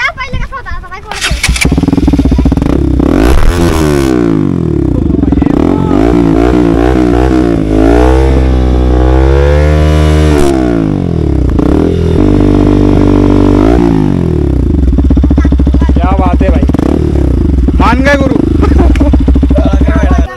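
Motorcycle exhausts rev loudly and close at a bikers' meet-up in Jalgaon, with deep rumbling idle, repeated throttle blips and rising roars. People talk over the engines throughout.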